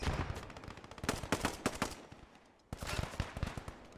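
Rapid bursts of gunfire and a sharp sniper shot ring out in a competitive tournament match of a World War II-style shooter game, loud clustered reports with a brief lull before another volley.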